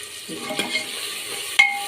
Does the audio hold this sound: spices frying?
yes